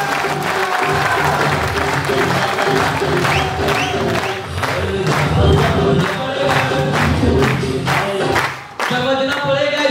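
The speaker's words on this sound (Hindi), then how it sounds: "बजाइए तालियां हम लोगों को।" Audience applause at a business motivational seminar in a hall, loud sustained clapping mixed with cheers and shouts, over music and background voices.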